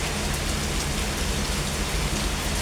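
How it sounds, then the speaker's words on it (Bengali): Heavy rain pours down in a dense, constant roar during a thunderstorm, loud and close with no voices. "অনেক জোরে আসছে বৃষ্টি।"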